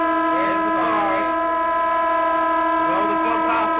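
A long, steady siren with stacked harmonic tones holds for about four seconds at a suburban Australian rules football match between Port Districts and Broadview, sounding loud and continuous with faint crowd or voice murmur mixed in.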